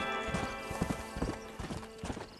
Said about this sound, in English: where can I hitch this horse up?